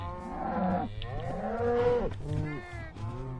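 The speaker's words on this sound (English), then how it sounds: "Now let that one cow get into the pen, please." Several overlapping cow moos from cattle in Minecraft Bedrock Edition, repeated low calls rising and falling, close and clear with someone talking faintly beneath.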